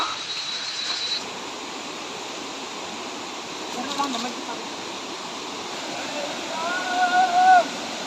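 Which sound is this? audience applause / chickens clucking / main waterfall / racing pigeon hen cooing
main waterfall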